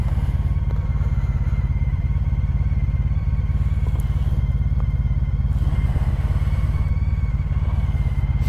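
A heavy 725-pound Honda CTX1300 cruiser motorcycle engine rumbles steadily at low speed, a deep continuous throb with occasional faint clatter, close and loud throughout.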